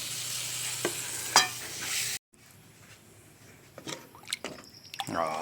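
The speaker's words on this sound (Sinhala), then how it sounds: "ඔන්න එහෙනම් පොල් කිරිත් දැම්මා" Coconut milk is poured into simmering jackfruit curry and stirred: a hissing sizzle first, then after a short gap, wet sloshing and spoon scrapes in the pot, close and fairly loud.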